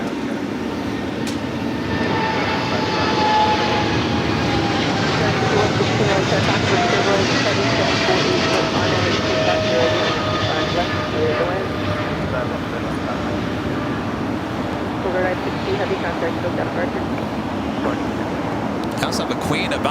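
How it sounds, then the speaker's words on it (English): A Southern Air Polar Cargo Boeing 777 freighter rolls for takeoff on runway 25 left at LAX, a loud, steady, broad jet roar sustained throughout with faint tonal engine whine. "I got that Southern Air Polar Cargo 777 freighter heading to Cincinnati, now about to take off"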